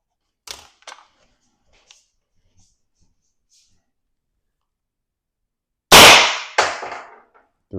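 An X.68 paintball marker running on a threaded CO2 cylinder fires two loud, sharp pops close together near the end, after several faint, sparse clicks in an otherwise quiet stretch.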